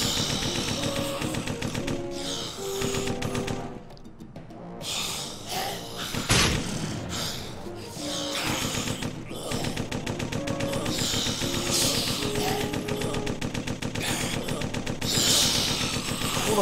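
Rapid bursts of gunfire from a weapon in the Corpse Killer video game, dense and loud, repeating in sharp volleys throughout over a busy backdrop of game sound.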